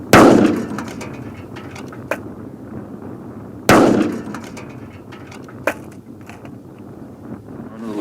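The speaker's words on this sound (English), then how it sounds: "L2A2 electric detonator, and inside an H83 ammo container." An L2A2 electric detonator fired inside an H83 ammo container gives two sharp, loud blasts about four seconds apart, each with a decaying rumble, and a smaller crack between them, with no voices.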